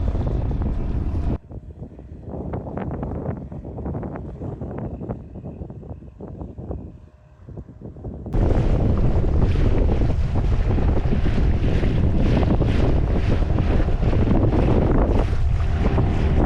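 Wind roars and buffets across a lake as a boat travels during a moose hunt in Alaska, loud and continuous, with heavy gusting noise on the microphone that surges even stronger in the second half.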